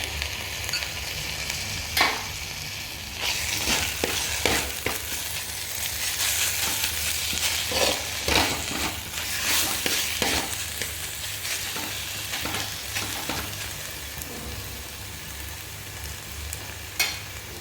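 Ginger garlic paste sizzling in a pan with onion and green chillies for a chicken dish, a loud, steady crackle punctuated by repeated spatula strokes and scrapes, close up with no voices.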